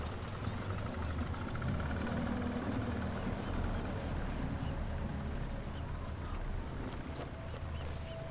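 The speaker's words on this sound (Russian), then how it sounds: "Катерочек это тоже на дежурстве и прекрасно может тебя" A patrol boat engine drones in the video game Sniper Elite 4, a steady broadband rumble with a low throbbing pulse that stays loud and unchanging throughout.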